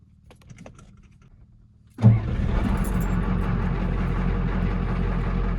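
A Ford F250 with a 6.9 IDI diesel engine and an electronic fuel pump cranks briefly and fires, settling into a loud, steady diesel idle. Faint clicks come first, then a sharp catch and a continuous close rumble.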